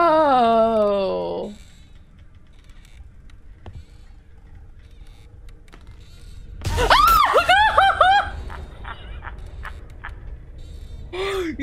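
A player screams at a jump scare in a horror video game: a loud, high pitched, wavering shriek at the start, then a sudden bang and a burst of frantic yelling and laughing cries after a quieter stretch.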